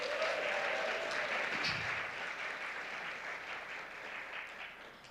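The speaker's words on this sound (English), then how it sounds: "Can we get a round of applause?" An audience at a large East Coast tech conference in Philadelphia applauds, a continuous, fairly quiet and distant patter of clapping that stays steady for about five seconds.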